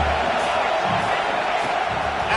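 A loud home crowd cheers and roars continuously at a football game, a dense, steady wall of noise inside the building.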